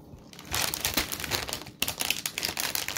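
Crinkling plastic wrapper of a package of Benton's chocolate chip cookies being opened, a close, loud run of crackles and crumples lasting a few seconds with a brief pause partway through.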